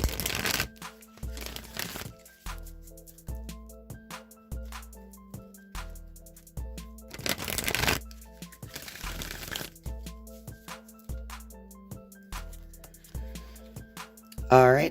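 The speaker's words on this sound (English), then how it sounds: "I'm just going to shuffle the wisdom of the Oracle deck a few times" An oracle deck of cards being shuffled repeatedly, with crisp riffling and slapping bursts at a steady rhythm, close up, while a person talks over the shuffling.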